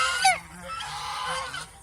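Domestic geese give a few loud nasal honks close by, a sharp cry followed by longer wavering calls with no voices.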